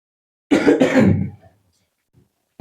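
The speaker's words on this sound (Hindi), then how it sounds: "थोड़ा सा खांसी आ रही है, माफ करिएगा" A man clears his throat and coughs during a physics lecture, two rough close bursts followed by a fading rasp, then quiet.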